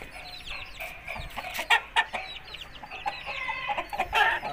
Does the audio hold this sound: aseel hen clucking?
yes